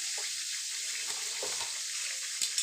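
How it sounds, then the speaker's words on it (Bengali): Vegetable stalks frying in a pan on a clay stove, a steady loud sizzle with occasional light scrapes and stirring taps. "প্রথমে আমি ডাঁটাটা একটু ভেজে নেব, তারপরে আমি আলুগুলোকে দেব।"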